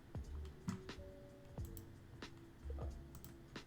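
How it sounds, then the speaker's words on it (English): Quick, light keystrokes on a computer keyboard, tapped in short uneven bursts at close range with pauses between, fairly quiet, with no voices. "I'm like typing in trivia answers on the stream that's providing the music right now"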